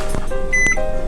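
Kitchen timer beeping in a home kitchen as it is set for a homemade thin-crust pizza, a few short loud electronic beeps in quick succession alongside clicks of the buttons.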